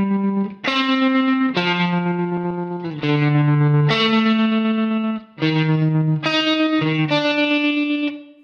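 Electric guitar with tremolo and a room reverb playing sustained chords, each one ringing bright and full for about a second before the next, a steady series of held tones with no talking.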